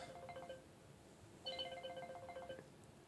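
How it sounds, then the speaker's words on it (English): Incoming-call ringtone on a phone, a repeating electronic melody in two bursts separated by a short pause, moderately quiet with no talk over it. "Oh, here I got a phone call."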